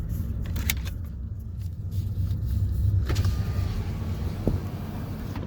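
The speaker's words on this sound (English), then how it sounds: "We're driving across the dam." A car drives across the Jackson Lake dam in Grand Teton National Park, its steady low road rumble and engine drone continuous and close, with a brief faint whine and a couple of small clicks inside the cabin.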